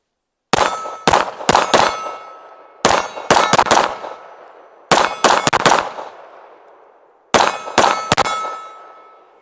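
Ranger Arms RA 9 pistol firing Blazer 115 grain rounds, loud close shots in quick bursts of two to four with short pauses between strings, each crack ringing with a metallic tail.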